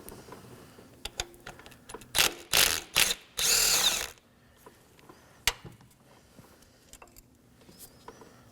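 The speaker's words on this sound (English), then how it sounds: "Now I'm going to go ahead and remove the 10mm bolt holding the ignition coil down." A 10mm bolt holding down an ignition coil is loosened on a 2018-2024 Chevrolet Equinox 1.5L L4 engine: a cluster of sharp ratchet clicks and a short power-tool whirr, followed by scattered light metallic taps.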